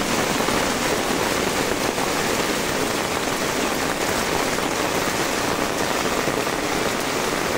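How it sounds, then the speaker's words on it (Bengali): Heavy rain pours over farm fields in Kaharole, Dinajpur, a dense, even hiss that stays loud and unbroken throughout with no voices. "দেখুন বৃষ্টি আর বৃষ্টি, পর্যাপ্ত পরিমাণ বৃষ্টি হচ্ছে।"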